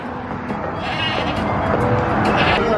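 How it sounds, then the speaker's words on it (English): Bleating from an animatronic goat in a figurine show at Huckleberry Junction, sounding repeatedly over a steady, busy background of music and crowd noise at moderate loudness. "there's Mario and his goat"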